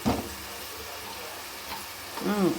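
Curry leaves and green chilies fry in hot oil for a goat head curry, giving a soft, steady sizzle under a faint voice.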